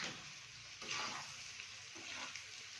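Egg, onion and pepper fry sizzling in a pan as it is stirred, a steady soft frying hiss with a few louder scraping strokes, close and fairly quiet with no talking.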